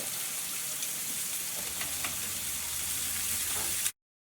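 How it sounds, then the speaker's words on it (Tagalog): Butter, garlic and thyme leaves sizzle steadily in a pan, a continuous close frying hiss with faint crackles, ending abruptly. "Mix the butter, garlic, and thyme leaves."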